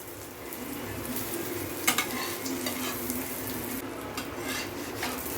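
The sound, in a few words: chicken jalar murtaba frying on low flame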